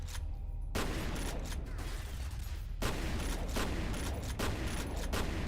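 Gunfire in the first-person shooter F.E.A.R. crackles in dense bursts, rapid overlapping shots close and loud, with a few brief gaps between volleys.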